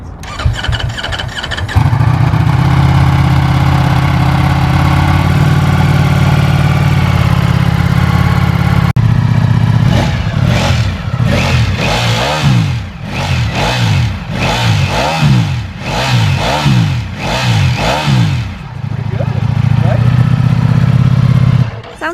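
A 2023 Ducati Panigale V4S superbike engine cranks and fires up in street mode, settles into a steady idle, then revs in a series of sharp blips before dropping back to idle.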